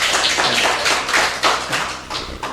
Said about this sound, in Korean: 저희 박수 한번